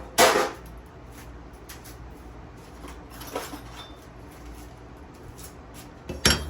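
A small metal pan picked up and set down among other old estate-sale tools, giving two sharp clanks at the start and end with softer handling rattles between, close and fairly quiet.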